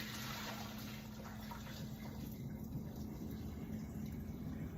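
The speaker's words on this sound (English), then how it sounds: "I'm gonna pour some of the water off." Hot water poured off boiled eggs from a pot in a kitchen sink, a steady splashing, rushing stream that runs continuously and fairly loud, with no speech.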